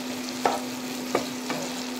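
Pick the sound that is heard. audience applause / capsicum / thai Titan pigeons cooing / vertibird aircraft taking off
capsicum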